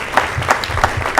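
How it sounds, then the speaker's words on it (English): Applause at a community dinner honoring James Hodge and the MLK Center, a steady wash of clapping from a crowd with a few louder accents. "let's give James Hodge and the MLK Center and Todd a big round of applause"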